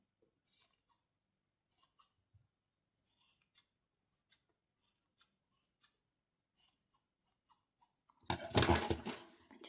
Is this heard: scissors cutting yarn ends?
yes